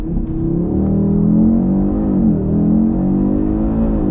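A 2022 Audi RS3 with 400 hp and all-wheel drive accelerates at full power from a launch-control start, its engine note climbing and surging steadily and close, with no voices over it.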